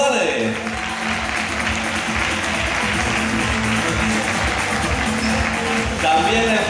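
Audience applause for jury member Araceli González at a singing contest quarter-final, a steady wash of clapping held throughout, with music underneath and a brief voice near the end.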